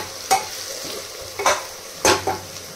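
Onions frying in a pan, with a soft steady sizzle broken by a few sharp scraping stirs of a spoon, close by.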